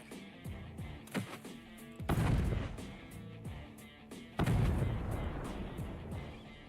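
An F1 hand grenade bursts near dummies on a range, two heavy booming blasts a couple of seconds apart, each with a rumbling decay, preceded by smaller clicks and thumps.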